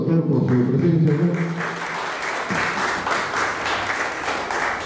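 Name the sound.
audience applause for the doctor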